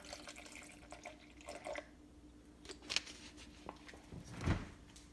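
Water pours into a Vitamix blender in short splashing bursts, trickling and dripping between them, ending with a louder gush, faint and close in a quiet kitchen.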